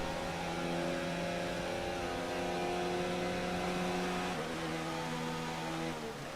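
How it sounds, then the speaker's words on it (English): An F1 2019 race car in a heavy-rain race drones on a steady, high engine note with a whining harmonic tone. The pitch drops sharply as another car passes by close, and the sound continues loud with no talking. "Here comes Perez, got to fly by me too."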